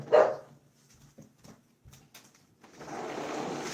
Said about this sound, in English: Oh, I do hear my dog.